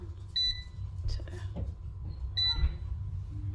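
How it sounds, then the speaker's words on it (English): A COSORI air fryer gives short, bright electronic beeps, two clear tones about two seconds apart, heard close in a home kitchen over low background hum and faint handling noise. "The beep again."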